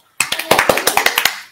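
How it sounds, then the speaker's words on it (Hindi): A small group claps in a quick burst of about a dozen sharp, evenly spaced hand claps, close and fairly loud, honoring a woman bringing club sandwiches and mini pizzas on a TV show. "और तालियां"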